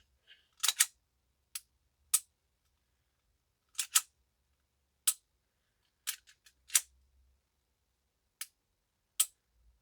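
Dry-fire trigger clicks from an RM1C pistol fitted with a performance trigger: about a dozen sharp, isolated clicks, some in quick pairs, spaced irregularly across a quiet background.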